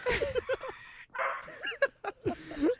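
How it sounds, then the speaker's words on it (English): Several dogs barking and yipping along a residential street, a close, busy flurry of barks and whines with a short pause partway through. "The whole fucking street is barking now."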